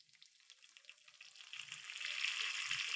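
Shallots and dried red chilies frying in oil for a sambar tempering, a steady hiss that grows louder and fuller over a few seconds, with faint low knocks from stirring.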